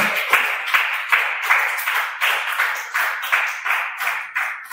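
An audience at a church library lecture claps in steady unison to welcome a pastor, about a dozen evenly spaced, crisp rhythmic claps, close and moderately loud, with no talking over it.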